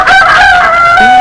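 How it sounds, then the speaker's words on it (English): A rooster-like bird gives one loud, close, drawn-out crowing call with a clear wavering tone that drops at the end. "What a magnificent bird you are."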